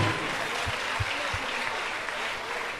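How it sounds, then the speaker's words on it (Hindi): A seated audience at a religious gathering breaks into loud, dense applause, a continuous roar of clapping hands that holds steady throughout, with a few voices faintly mixed in. "जोरदार तालियों के साथ अनुमोदन करें"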